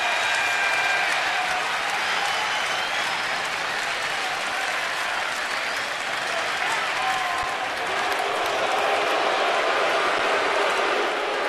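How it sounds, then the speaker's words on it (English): A baseball stadium crowd cheers and applauds loudly and continuously, a dense roar of claps and voices that swells and holds without pause. "All of a sudden, the crowd is into this baseball game."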